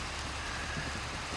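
Steady rain falling in a Pokefind game world, a soft continuous hiss with no voices over it.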